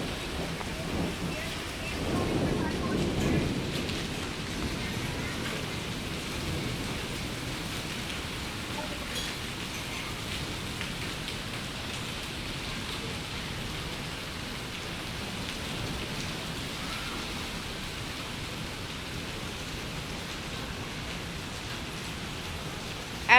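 Hailstorm with rain in Pathankot, a dense continuous hiss of falling rain and hail pelting surfaces, steady and enveloping for the whole stretch, with a slightly louder swell early on.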